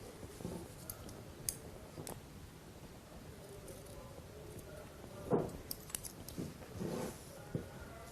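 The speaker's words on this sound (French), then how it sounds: "Et je coupe l'excédent et toujours en biais." Scissors trim the excess ribbon on a pair of summer shoes, cut on the bias: a few faint, scattered snips and small clicks in a quiet room, with no talking.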